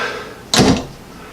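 A spring-loaded steel gun safe door swings or thuds once, a single loud broadband burst about a third of a second long standing out against a quiet background.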